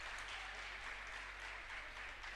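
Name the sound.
crowd applause at a university basketball game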